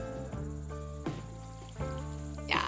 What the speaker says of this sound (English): They sound like cicadas. I feel like that noise is these.